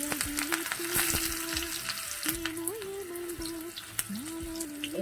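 Cumin seeds fry in a pan for tomato dal curry, giving a steady close crackling sizzle throughout, broken by scattered pops and a few stirring scrapes over a faint whine.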